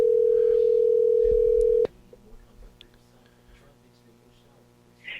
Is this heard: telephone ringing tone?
yes